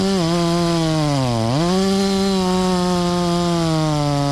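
A chainsaw cutting hard white oak, its engine loud and close in a steady high whine that bogs down briefly under load before climbing back to full revs.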